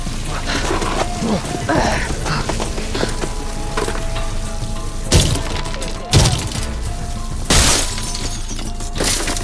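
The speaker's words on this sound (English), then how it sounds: "The firefighters started breaking through the glass around the bullet holes." Firefighters smash through bulletproof glass around bullet holes, with several sharp cracking, shattering impacts over a busy, noisy background, the heaviest hits coming near the end.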